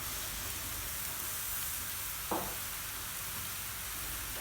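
Glass noodles stir-fry in a pan with fish sauce as seasoning, giving a steady soft sizzle and hiss with one brief scrape partway through.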